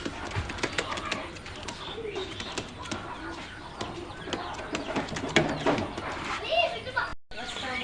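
Pakistani teddy pigeons coo softly in a busy setting, their low murmurs mixed under the chatter of adults and children close by.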